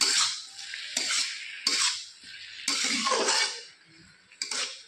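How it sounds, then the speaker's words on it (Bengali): Ridge gourd being stirred with water-thinned chili paste in a pan, in four or five close, bursty scraping strokes with a wet sizzling hiss and pauses between them. "এবার আবার নেড়ে চেড়ে নেব"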